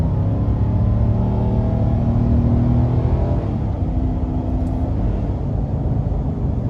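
Nissan Titan XD Pro-4X pickup with a 5.6 V8 accelerating toward highway speed, a steady loud engine drone with rising harmonics and road noise filling the whole stretch, no talk.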